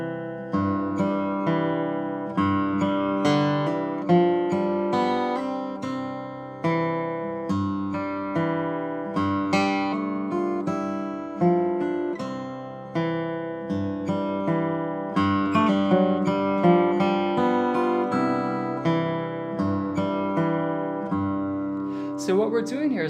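Slack key guitar plays an eight-bar intro in C Wahine tuning, a steady picked pattern of clear plucked notes and bass over about twenty seconds, with no voices.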